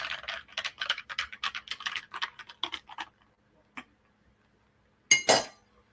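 Orangeade drink stirred in a glass, a rapid run of light clinking taps of a spoon against the glass for about three seconds, a lone tap after a pause, then one brighter ringing clink.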